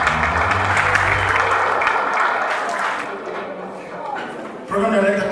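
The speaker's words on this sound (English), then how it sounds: "Shall we clap for our program director?" An audience at a foundation event claps for the program director, with broad clapping that thins out midway and then swells again near the end, mixed with voices.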